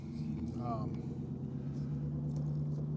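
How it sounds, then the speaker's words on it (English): A truck engine rumbles low and steady in the background, distant and partly masked, while someone talks over it throughout. "Speaking of redneck truck firing up in the back."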